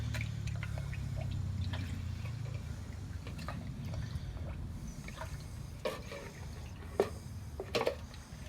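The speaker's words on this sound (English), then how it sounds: "I'm just going to give it a little rinse." A Shovelhead motorcycle carburetor part is swished and rinsed in cleaning liquid, giving soft, close sloshing and dripping, with a few sharper splashes and trickles toward the end.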